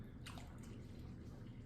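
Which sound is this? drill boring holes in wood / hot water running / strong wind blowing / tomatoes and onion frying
hot water running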